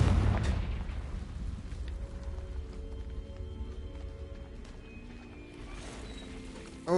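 Confringo blasting spell in Hogwarts Legacy, cast on a cave enemy: a heavy blast opens loudly, fades into a low rumble with faint ringing tones, and another sharp hit lands at the very end.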